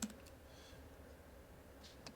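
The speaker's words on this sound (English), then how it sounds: "if we just type in KitchenAid mixer standing" Light keystrokes on a computer keyboard while a product search for a KitchenAid stand mixer is entered, a few soft clicks spread through a quiet stretch with no talking.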